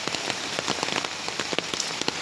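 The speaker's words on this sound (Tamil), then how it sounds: "மழை வந்து எல்லாத்தையும் வீணாக்குது." Heavy rain pours down in Kumbakonam, a dense steady hiss with close drops pattering on surfaces throughout, loud and continuous with no voices.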